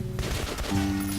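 Rapid bursts of gunfire in the video game Metro: Last Light crackle loudly for a second or so, with a low electronic hum underneath.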